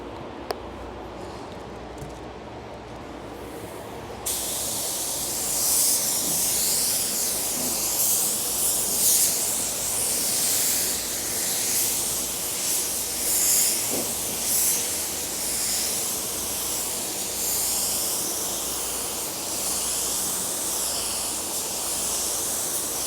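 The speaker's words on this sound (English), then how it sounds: "And then I'm gonna be shooting and then I'll be shooting a sealer." A spray gun shoots sealer onto a car panel in a steady, loud, close hiss that starts after a few seconds of quiet and runs continuously to the end.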